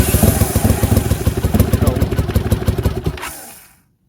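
Close and loud, a 1981 Honda CX500 motorcycle runs on manual choke with a fast, lumpy, pulsing idle, then cuts out abruptly.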